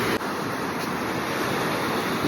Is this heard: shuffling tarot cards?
no